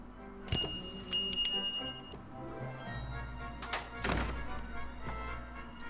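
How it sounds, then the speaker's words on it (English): A bell rings in the adventure game Book of Unwritten Tales 2, several quick bright metallic dings early on, followed by dull thunks and knocks under a quiet background hum. "The nice thing about the bell, Bill can't ignore me."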